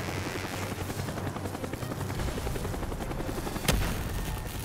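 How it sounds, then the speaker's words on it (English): Helicopter rotor chop in the video game Call of Duty Black Ops, a steady loud low thrum running throughout amid combat noise, with a sharp burst near the end. "Out of the chopper, jump!"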